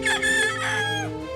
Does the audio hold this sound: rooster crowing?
yes